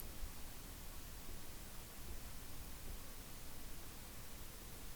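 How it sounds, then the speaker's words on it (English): Faint, steady hiss of an Atomos Ninja 5 recorder fan picked up by a Samson C02 mic in a quiet room, a low broadband noise with no other sounds. "you might hear some noise. That's the fan on my Ninja 5"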